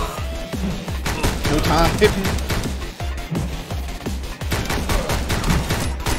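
Rapid bursts of gunfire from the video game Speed Limit, dense and loud with automatic fire and sharp impacts continuing throughout, while players talk over the shooting.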